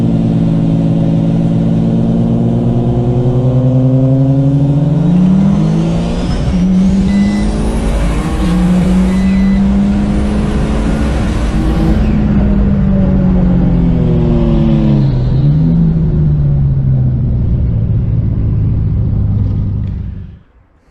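V6 turbo Ecojet race car launching off the line at roll racing in Perth, a loud, close engine roar that climbs in pitch through the gears and holds strong for about twenty seconds before cutting off abruptly.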